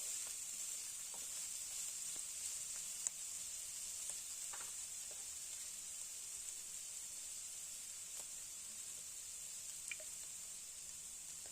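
Mixed vegetables for veg chowmein crackle and sizzle in a pan as they are stir-fried, a soft constant hiss broken by occasional sharp ticks and light scrapes, close and fairly quiet with no voices.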